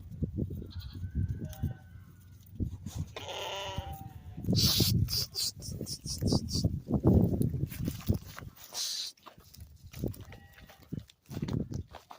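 Goats bleat repeatedly and loudly at close range, several animals calling over one another amid rustling and shuffling movement, with billy goats fighting nearby.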